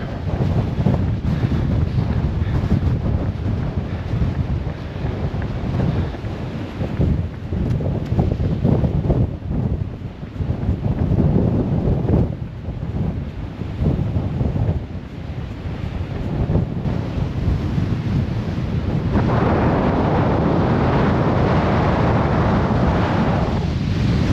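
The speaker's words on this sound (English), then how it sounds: "It's a bit windy." Strong wind buffets and roars across the microphone in uneven gusts, with a constant rushing noise like surf or moving water beneath it and no voices.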